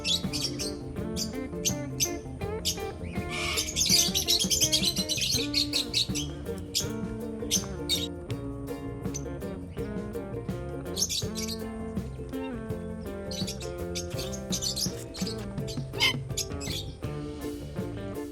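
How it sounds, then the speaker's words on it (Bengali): Various birds chirp, tweet and squawk at Bethuadahari bird sanctuary, a busy layered chorus of repeated calls, some near and loud, others fainter, continuing throughout with no speech. "এখানে রয়েছে বিভিন্ন ধরনের পাখি।"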